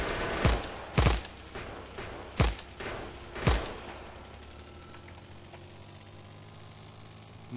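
Gunfire from a vehicle shooting at trees in the Factorio video game, heard as four separate loud booming shots at roughly one-second intervals, each fading into a steady hiss.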